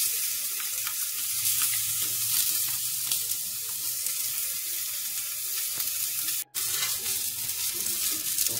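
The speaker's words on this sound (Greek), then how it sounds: "Το γυρίζουμε γύρω-γύρω και όσο μπορούμε το τσιγαρίζουμε. Χωρίς λάδι." Veal shank searing in a hot pan without oil, a loud, steady sizzle and crackle that continues throughout, broken by one brief moment of silence near the end.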